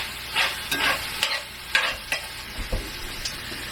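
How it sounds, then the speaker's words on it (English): Meat stirred in a hot pan, sizzling steadily with several scraping stir strokes at an uneven rhythm, close and fairly quiet, no talking. "Give my meat a little stir."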